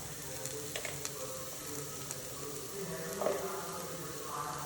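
Curry leaves and crushed chili flakes sizzle in hot oil, a close, continuous frying hiss with a few sharp crackles early on and a small burst of stirring later.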